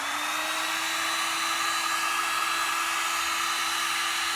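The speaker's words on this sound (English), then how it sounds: "we're going to take our heat gun and we're going to set it up to the maximum, and we're going to heat it up." A heat gun set to its maximum output blows steadily during Yamaha YFZ450 swingarm and bearing carrier work, making a loud, even airy roar with a thin high whine and no break.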